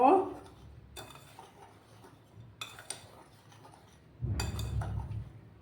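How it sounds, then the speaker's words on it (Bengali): Dry ingredients for malpua, including salt, are mixed in a bowl with a spoon, making a few separate clinks and scrapes against the bowl, and a heavier rustling stir comes near the end. "শুকনো উপকরণগুলোকে ভালো করে আমি মিক্স করে নেব"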